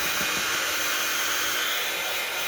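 A hair dryer runs steadily at close range, a constant loud whooshing hum blowing over freshly colored digital journaling papers, with no talking.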